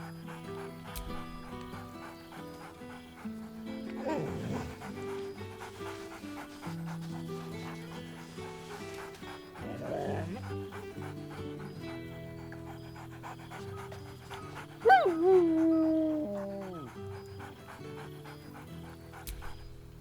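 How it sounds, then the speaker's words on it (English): Scratch, a dog in Baldur's Gate 3, pants in a steady rhythm over soft background music, with a louder yelping bark and whine late in the stretch, fairly close but modest in level. "Scratch barks merrily in something like agreement."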